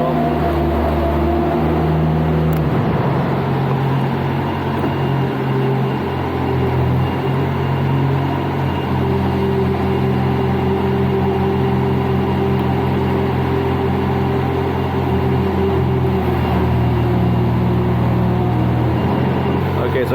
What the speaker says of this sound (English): Okay, so engine's running fine.